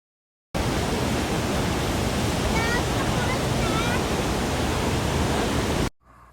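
A waterfall near a cave in Banff roars as a dense, constant broadband rush, loud and close, running steadily for several seconds with faint voices in the background before it cuts off.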